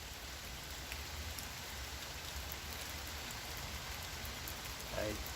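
Heavy rain pouring down onto a small shelter in a storm, a soft, continuous hiss of drops with faint pattering, recorded from underneath and steady throughout.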